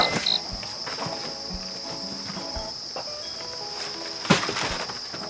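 A constant high-pitched cricket chirping runs throughout, with scattered knocks and a sharp clatter near the end.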